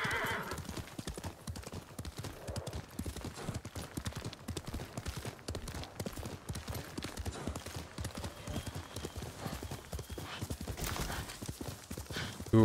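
A horse gallops and neighs in the video game Ghost of Tsushima, with steady, close clip-clop hoofbeats running throughout and occasional whinnies over the game's ambience.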